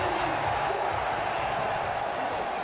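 A cricket crowd at a T20 match cheers and applauds, a dense, steady wall of distant noise filling the whole stretch without a clear peak, with a commentator's voice faintly underneath.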